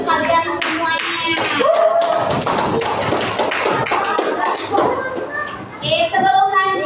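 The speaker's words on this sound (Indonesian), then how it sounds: "Tepuk tangan lagi untuk kalian semuanya." Fourth-grade classroom of children clapping together, a dense burst of quick claps close by mixed with kids' voices and an adult talking over it.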